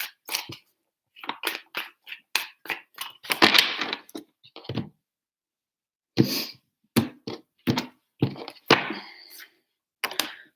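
Tarot cards shuffled by hand in several separate bursts of crisp riffling and tapping, close and fairly loud, with short pauses between bursts.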